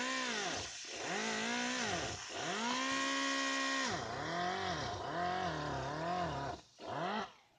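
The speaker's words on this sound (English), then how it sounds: "you're gonna have to sand it like this" A rotary power sander working Bondo filler on a car body kit, giving a loud whirring whine that rises and falls in pitch as it presses against the surface, continuous with short dips.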